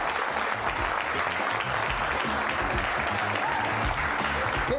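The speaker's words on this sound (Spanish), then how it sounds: "Fuerte el aplauso para recibir al profesor Ricardo Piñeyrúa." An audience applauds steadily in a welcoming burst for a guest at an interview show, a dense continuous clatter of clapping with no break.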